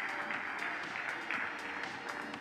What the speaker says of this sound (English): A round of applause for my fantastic panelists this afternoon.